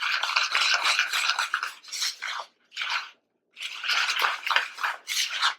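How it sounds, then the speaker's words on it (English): Bath bomb mixture being worked by hand in a bowl, gritty rhythmic scrubbing and crunching strokes in bursts with short pauses, close and dry. "I like mixing with my hand because it just seems like it mixes so much easier."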